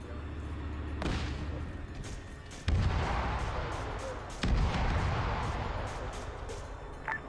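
Mortar rounds in the video game Arma 3 boom out in a few sharp, heavy blasts, with rumbling battle noise and distant gunfire continuing between them.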